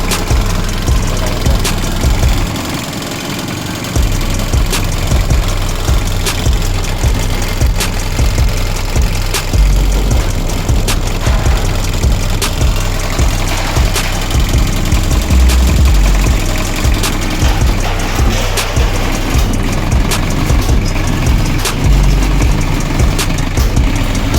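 An RF engine runs steadily through a test start, a loud, continuous mid-pitched rumble with rhythmic knocking pulses and one brief dip near the beginning before settling back into its even running note.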